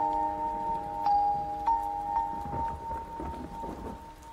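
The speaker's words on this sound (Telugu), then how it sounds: "వర్షం పడుతోంది" Rain falls in a movie scene, a soft steady patter under a sustained tonal hum with a few faint clicks, fairly quiet and without speech.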